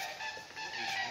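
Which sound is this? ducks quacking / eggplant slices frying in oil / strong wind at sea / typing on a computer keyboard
ducks quacking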